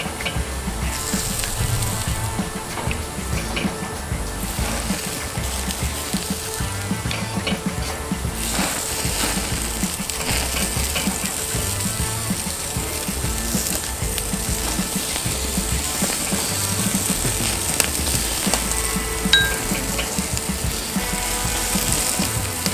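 Garlic butter shrimp sizzle steadily over hot coals on a Weber kettle grill while being basted, a constant close, broadband crackle and hiss running unbroken throughout with small pops here and there.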